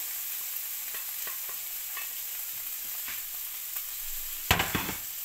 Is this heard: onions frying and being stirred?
yes